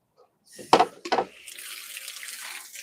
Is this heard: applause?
no